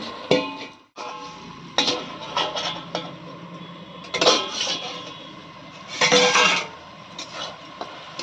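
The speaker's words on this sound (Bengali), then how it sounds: "এই সব কিছুকে মিক্স করে হালকা ঢেকে দিচ্ছি" Drumstick flowers mixed in a metal pan, then covered: irregular bursts of utensil scraping and clattering, clanking metal knocks and a lid set down, close by with short pauses between.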